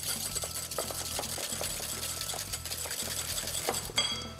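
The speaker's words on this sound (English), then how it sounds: "Take 2 egg yolks, separate them. Now give that a really nice whisk." Egg yolks whisked briskly in a bowl, with a rapid rhythmic ticking and clinking of the whisk against the sides, steady and close throughout with a sharper clink near the end.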